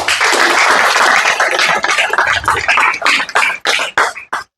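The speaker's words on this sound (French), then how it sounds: "On doit applaudir pour ça." An audience at a French-language marketing presentation gives loud, dense applause that thins into scattered individual claps and then stops abruptly.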